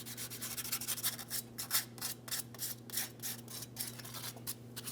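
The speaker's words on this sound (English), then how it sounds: "Just going to use some fine sandpaper." Fine sandpaper scuffing the front flange of a rear driveshaft on a 2007-2014 Ford Edge 3.5L V6, close rhythmic rasping strokes back and forth over a low steady hum, no voices.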